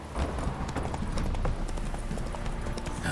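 Steady horse hooves clip-clopping at a walking pace in The Witcher 3, close and continuous with a brief faint whinny, plus light game ambience underneath.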